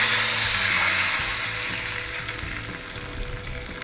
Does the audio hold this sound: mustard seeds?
yes